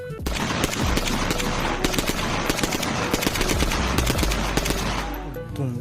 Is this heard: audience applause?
no